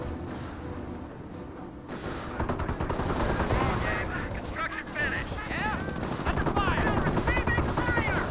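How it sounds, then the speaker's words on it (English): Anti-tank guns firing in a Company of Heroes match, with rapid distant gunfire and bursts layered over a dense battle soundscape. Game voices and effects mingle in the background. "AT guns firing some shots over there."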